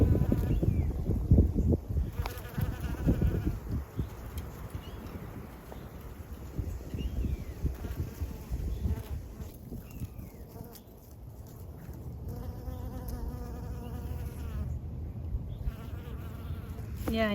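Bees buzzing outdoors on a permaculture farm, a wavering drone that rises and fades as insects pass near the microphone, over light wind noise and low background rumble, with no talk.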